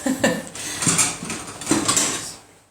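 Spoons and plates clatter and clink close by at a table during a meal, a quick run of light metallic and ceramic knocks, with faint voices underneath.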